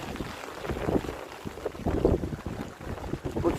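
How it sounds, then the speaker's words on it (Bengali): Strong wind gusts across a rooftop garden in light rain, heavy buffeting rumbles on the microphone rising and falling in close, loud surges with no speech. "প্রচন্ড বাতাস ছাদের উপরে"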